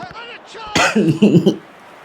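One short, harsh cough bursts out close to the microphone, with a brief throaty follow-up, after a moment of voice.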